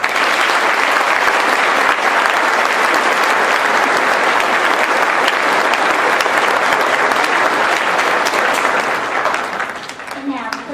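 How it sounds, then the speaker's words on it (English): Sustained applause fills a school auditorium during a Veterans Day ceremony at Hart County High School, honoring veterans in attendance; dense, loud clapping that holds steady for about ten seconds before thinning near the end. "Will you please join me in a round of applause for the veterans in attendance today?"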